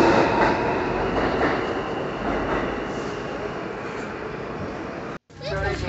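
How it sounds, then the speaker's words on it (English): A New York City subway train rumbles loudly and continuously with rattling carriage noise and wheel grind, the sound cutting out briefly near the end before resuming, while a voice talks over it. "Subway."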